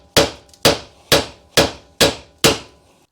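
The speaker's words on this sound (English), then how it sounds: "hit the hub right here with a hammer" A hammer strikes the rusty hub of an MX5 Miata six times at an even pace. Each blow is a sharp, loud metallic whack that rings out briefly, with no voices.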